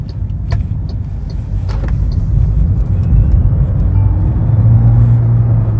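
A 2024 MG3 Hybrid+ full hybrid with 194 HP and an automatic gearbox accelerates hard, its loud cabin rumble and engine drone rising steadily, with no talk over it.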